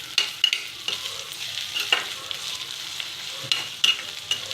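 Prawn shells fry in oil for a gongura prawn-shell pickle, giving a steady close sizzle with sharp crackles and pops and occasional stirring scrapes, and no voices.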